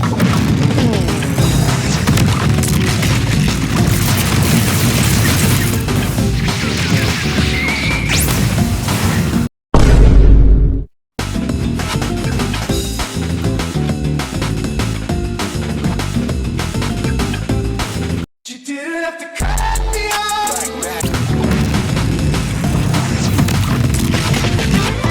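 Lightning fruit combo attacks in a PvP video game: a dense, loud barrage of booms, crashes and whooshes, broken by two short silent gaps, over continuous game sound.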